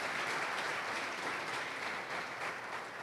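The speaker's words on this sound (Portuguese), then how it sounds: "aplaude e celebre a vida agora, em nome de Jesus" A church congregation applauds together at a Pentecostal service, a dense, steady wash of clapping that holds an even level for the whole stretch with no voices breaking through.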